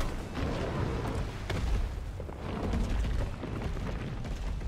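Explosive rounds going off like fireworks in Resident Evil 3 Remake, with repeated heavy booms and sharp cracks in a dense, continuous barrage heard close and loud, with no talking.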